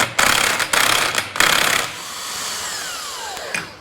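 An impact wrench fitted with a 16 mm socket hammers at a clutch nut on a Polaris RZR 800 S engine, three loud close bursts of rapid rattling blows, then a quieter mechanical whir fading out.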